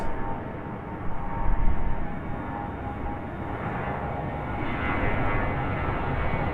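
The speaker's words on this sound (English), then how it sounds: "American Airlines hard on the gas." An American Airlines jet airliner accelerating down the runway at Raleigh-Durham International, a broad, steady engine roar that swells slightly as the takeoff roll builds, heard from a distance with no talking.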